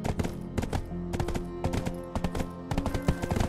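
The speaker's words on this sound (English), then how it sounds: "Looks like my horse is about to run out of stamina too" Horse hooves clatter in fast, uneven rhythmic bursts, close and loud, as a mount gallops in the online role-playing game Black Desert Online; no one speaks.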